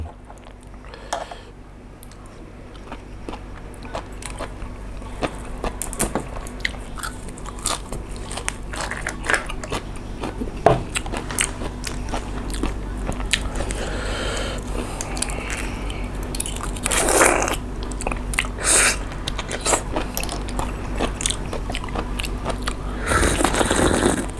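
Fresh blood cockles from a pond being eaten with dipping sauce, close crunchy bites, wet squishy chewing and slurps repeating over a quiet background hum, with no talking.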